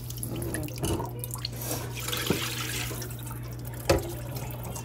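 Raw pork being rinsed under a running kitchen tap, a steady wash of flowing water with a few louder splashes and drips as the meat is turned, close by and without voices.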